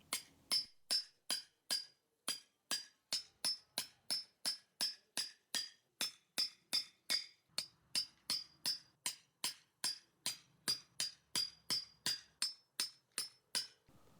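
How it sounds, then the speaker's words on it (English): A hammer taps a chisel along a split line in wet wood, producing a long steady series of sharp metallic strikes with brief pauses, close and clear with no voices. "We're going to establish the split line with this chisel, working our way along the pen mark with a few taps at a time."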